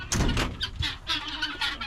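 Guinea fowl call in a fast run of harsh, repeated squawking cries, loud and close, with no voices, over a couple of seconds.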